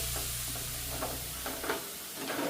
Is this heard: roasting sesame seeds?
yes